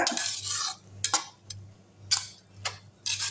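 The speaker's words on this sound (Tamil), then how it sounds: "கோஸ் கொஞ்சம் போட்டுருவோம் அதையும் நல்லா கிண்டி விட்டுடலாம்" Cabbage is stirred in a cooking pan with the gas off, a series of short scraping and clinking strokes of a utensil against metal, spaced irregularly over a low steady hum.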